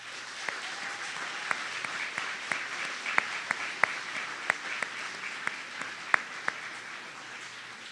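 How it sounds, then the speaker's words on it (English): Steady applause at a Maritime Business College Class of 2021 graduation, a dense, even wash of clapping with occasional sharper individual claps standing out, continuing throughout. "please, a round of applause to acknowledge them as well"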